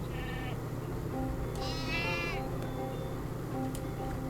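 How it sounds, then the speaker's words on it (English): Sheep in the Skylanders Spyro's Adventure video game bleat a few times over a steady game soundtrack, one longer, wavering cry standing out in the middle. "Honestly, Hugo, they're just sheep."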